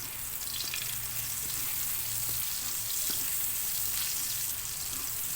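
Margarine and oil sizzle in a frying pan with a steady hiss and faint crackles and clinks, moderately close and quiet, with no talk.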